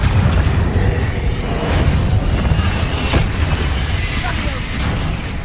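Explosive spells going off in the Hogwarts Legacy video game: a continuous dense rumble of blasts and booms with a few sharper bursts, loud and close throughout.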